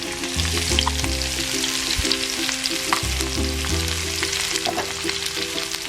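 Mixed vegetables with onions and ginger stir-frying over high heat, a steady dense sizzle running throughout with a tonal musical backing underneath.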